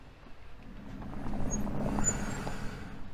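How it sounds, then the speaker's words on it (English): Brakes on a Xiaomi SU7 Ultra performance car give a faint, thin squeal that rises and fades over a low rumble as the car creeps forward slowly, with no talking. "The performance brakes on this car can be a little bit squeaky."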